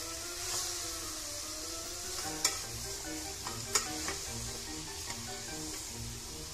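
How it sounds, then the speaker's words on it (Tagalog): Chicken for tinola is stirred in a frying pot, a soft steady sizzle under occasional sharp clinks and scrapes of the spoon against the pot, nearby. "I-mix lang natin guys para mag-balance po yung lasa sa ating chicken"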